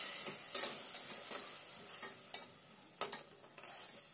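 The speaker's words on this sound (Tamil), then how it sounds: "புதினா பேஸ்ட்டும் கொஞ்சம் பச்சை வாசம் போகிற வரைக்கும் நல்லா வதக்கிடுங்க." Mint paste ground with shallots is sautéed in a pan for mint pulao, a soft, quiet sizzle punctuated by a series of spatula scrapes and stirring strokes at close range.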